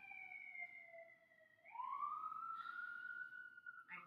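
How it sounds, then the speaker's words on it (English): An emergency siren wails outside, steady and fairly faint, then sweeps upward into a higher sustained tone as it passes at a distance. "I'm pausing because there's a siren going on behind me."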